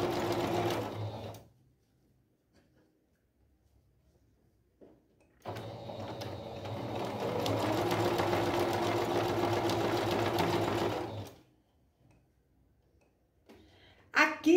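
A sewing machine runs a straight stitch through fabric, attaching bias binding to a patchwork placemat, in two steady whirring bursts separated by a pause.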